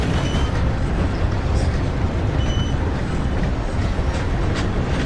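Steady rumble of a train running on rails in the video game Red Dead Online, continuous and loud with faint clatter on top and quiet game sound around it.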